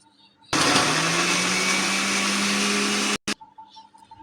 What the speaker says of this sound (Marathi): आपण जी ब्रेड घेतलेली ते ब्रेडचे आपण तुकडे करून मिक्सर मध्ये टाकले।